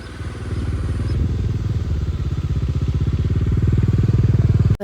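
A motorcycle engine idles up close while being parked at Govardhan Eco Village, a loud, steady, throbbing put-put that holds for several seconds and then cuts off abruptly at the end.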